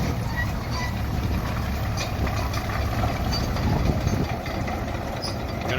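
An old Chevy engine idles at a vintage harvest event among support vehicles, giving a steady low rumble that runs without a break from start to finish. Voices murmur faintly in the background.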